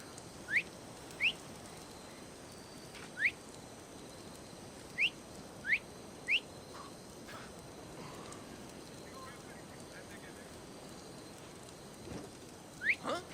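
Sharp rising two-note whistles from a hidden figure in Assassin's Creed Odyssey, repeated about nine times at irregular intervals over a faint outdoor ambience, clear and moderately near.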